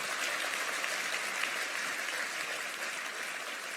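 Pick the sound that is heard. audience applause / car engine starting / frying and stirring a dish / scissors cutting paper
audience applause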